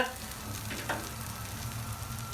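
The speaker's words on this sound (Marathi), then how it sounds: "अशी मस्त गो फ्राय होऊ द्यायची भेंडी" Okra cooked with green chillies fries steadily in a pan, a close, constant sizzle with faint stirring scrapes and no talk.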